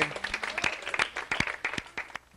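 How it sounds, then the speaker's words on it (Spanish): Guests at a Yucatán hacienda where sisal fibre was once processed clap for the hacienda workers: a short burst of scattered, uneven handclaps from a modest group, close and fairly dry, with no talk. "ahorita les pediré un caluroso aplauso a los trabajadores de la hacienda"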